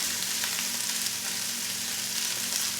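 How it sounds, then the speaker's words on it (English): Ramen noodles with carrot and other mixed vegetables frying in a hot pan, a steady close hiss of sizzling with faint scraping from stirring underneath, continuous and fairly loud with no talk. "Go ahead and give that a stir."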